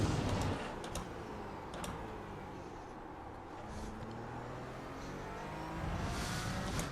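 Race car engine from a Porsche esports sim racing game, revving and easing through gear shifts with faint ticking, held at a low, steady level and swelling slightly toward the end.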